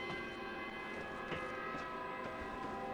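A siren enemy in the Dark Souls video game wails as a sustained, grating high tone with layered harmonics, steady and fairly faint, with brief accents scattered through it.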